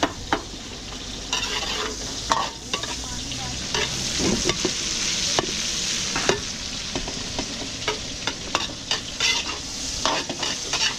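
Garlic and onion frying and being stirred for a seafood paella at a catering kitchen, a loud steady sizzle broken by frequent scraping, clattering stirs of the spoon against the pan, with no voices.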